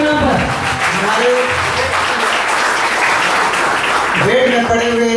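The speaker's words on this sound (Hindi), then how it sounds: "एक बार ग्रुप के नाम पर जोरदार ताली" Loud, dense applause from a reunion gathering fills the whole stretch, a continuous wash of many hands clapping close by with voices mixed in underneath.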